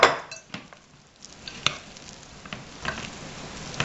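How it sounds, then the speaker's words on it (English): A spoon works through a thick cream cheese, vegetable and finely shredded Colby Monterey Jack mixture in a bowl, giving soft scraping strokes and occasional clinks of utensil against the dish. "And just keep stirring this up"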